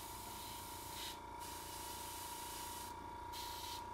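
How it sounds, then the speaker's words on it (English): Spray paint hisses from an aerosol can onto a silver surface in a steady, faint spray, with two brief pauses between bursts. "it's also very hard to see where you're spraying with this stuff on the silver"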